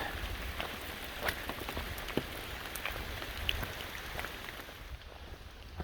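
Steady rain falls around a shelter on the Appalachian Trail in Pennsylvania, a dense even patter with scattered sharper drops striking close surfaces throughout.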